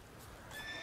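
A horse in The Witcher 3 video game whinnies in a short, bright burst that swells toward the end over a dense layer of game ambience.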